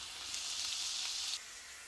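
Chicken sizzles steadily as it fries in a hot pan, a close, continuous crackle that stays even for a moment and then drops slightly quieter.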